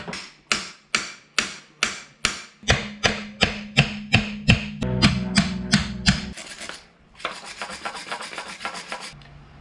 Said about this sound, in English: Might have to get a drift and get in there and or chisel and hit it back.